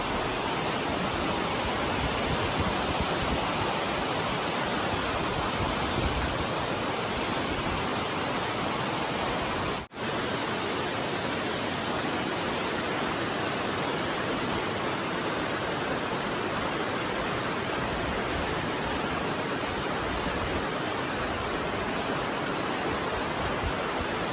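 Mossbrae Falls in California pours with a continuous, loud, dense roar of falling water that stays steady throughout and has no voices over it.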